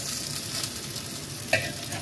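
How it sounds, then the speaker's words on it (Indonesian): An egg dish fries gently in a pan over low heat, giving a steady soft sizzle with a brief stirring clink near the end. "Digoreng menggunakan api kecil, digoreng sebentar aja teman-teman ini."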